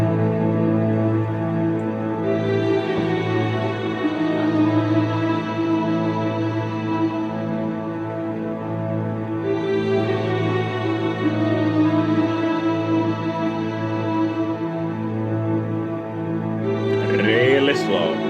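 Slow black metal passage with sustained, droning mid-tempo guitar and bass, dense and continuous at steady loudness throughout, no vocals.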